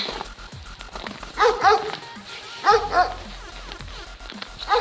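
A farm dog barks in three short bursts spaced a second or so apart, moderately close, over a low background hum.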